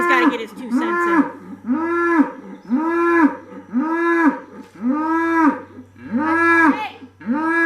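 A cow named Maverick moos loudly and close by, about six long, drawn-out calls in a steady rhythm with short pauses between them.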